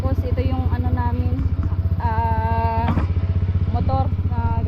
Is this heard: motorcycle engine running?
yes